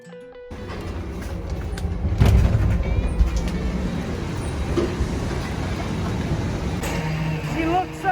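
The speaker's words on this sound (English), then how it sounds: "I'm screaming because of the trash truck behind me" A garbage truck on a New York City street makes a loud, steady low rumble with mechanical clatter that fills the whole stretch, close by.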